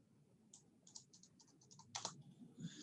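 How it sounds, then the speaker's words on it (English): Typing a search on a computer keyboard: a quick run of light, clicky keystrokes, faint and close, with a slightly louder burst of taps near the end and no voices. "let me just type in Whirlpool to begin with"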